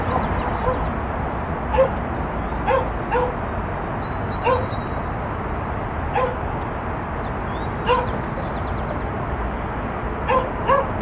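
Dogs bark in short, scattered yips and barks, repeated every second or so, heard over a constant loud wash of outdoor background noise.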